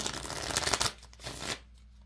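A quick riffle of cards being shuffled up close, a dense flutter that stops abruptly.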